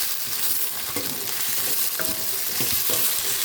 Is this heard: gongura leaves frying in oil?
yes